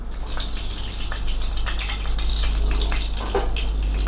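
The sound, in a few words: bay leaves and whole spices sizzling in hot ghee and mustard oil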